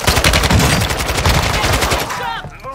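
Sustained automatic gunfire in Warzone 2.0, a loud, dense, close rattle of rapid shots lasting a couple of seconds before cutting off, with a voice faintly audible underneath.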